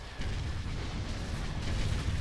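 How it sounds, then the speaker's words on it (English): A hypervelocity cannon shot in a Star Wars strategy video game rumbles as a loud, sustained deep boom with a continuous roaring blast that fills the whole moment. "Here comes another hypervelocity cannon shot."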